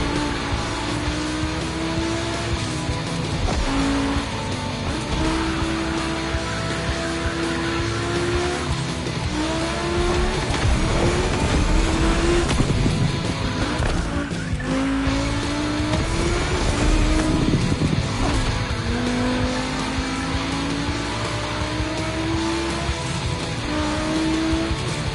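Volkswagen race cars scream around a track, engines revving up and down through gear changes with squealing tires, a continuous loud pack of cars passing close.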